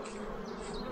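Honeybees swarm and hum at a spring beehive shared with ants, a dense, steady, close buzz that fills the moment without a break.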